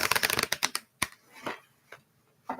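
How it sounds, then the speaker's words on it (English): Tarot cards are shuffled in a fast burst of close, crisp riffling clicks, then a few scattered slaps and taps as the deck is handled, with no one speaking. "that was not a good shuffle for the main cards"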